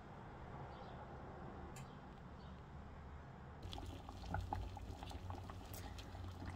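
Bottle gourd boiling in a pot for lau dal: a steady low bubbling simmer that grows a little busier and louder partway through, with small pops and splashes, alone with no voices.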